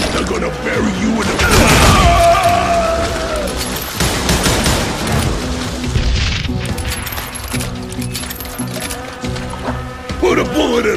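Gunfire in the video game Call of Juarez Gunslinger, a burst of loud shots and booms with mechanical clatter, mixed under shouting voices and game action.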